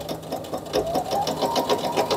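A sewing machine topstitches a shopping bag in quick, rhythmic bursts of needle clatter, close and steady, with no talk over it.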